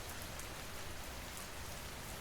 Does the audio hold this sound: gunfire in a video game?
no